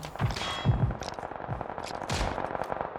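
Shots from a Mosin-Nagant bolt-action rifle in a video game come as a handful of sharp, booming cracks at irregular intervals, each with a short decaying tail, fairly loud and with no talk over them.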